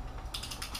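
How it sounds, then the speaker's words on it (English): A torque wrench ratchets while tightening bolts on a 2006 Jeep Grand Cherokee 3.7L engine during a rebuild, a quick run of about five crisp, close clicks after a brief quiet moment. "So the first thing we do is we torque this thing to 20 foot-pounds."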